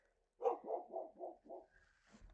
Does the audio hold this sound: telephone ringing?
no